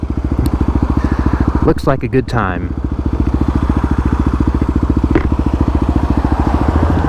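A Kawasaki KLX250 dirt bike engine putters loudly and steadily up close as the bike rides along, while a voice briefly speaks over it.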